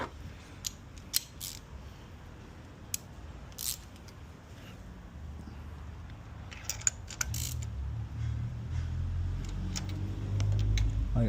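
Valve cover bolts being tightened with a socket wrench, giving scattered short metallic clicks and ratcheting ticks over a low background rumble, faint and close.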